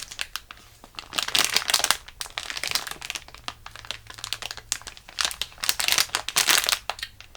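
A plastic package holding a rare Japanese squishy is torn open by hand, giving loud, close bursts of crinkling and crackling that come in two heavy waves with quieter handling between them.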